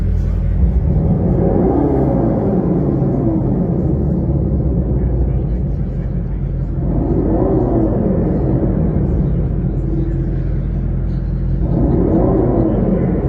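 A droning engine sound rises and falls in three slow sweeps, steady and loud, like a synthetic motor tone heard outside a car.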